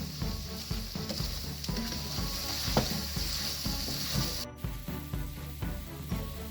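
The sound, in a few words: liver being sautéed in a pan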